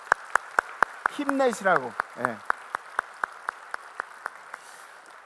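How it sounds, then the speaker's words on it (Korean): A church congregation at Sunday worship claps in an even, steady rhythm, crisp and close, while someone speaks briefly over the clapping. "우리 이분들 위해서 다시 한번 박수."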